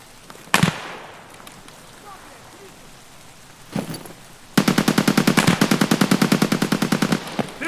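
Automatic gunfire in the video game Escape from Tarkov: two isolated loud shots, then a long, rapid, evenly spaced burst of machine-gun fire lasting several seconds, close and dominant.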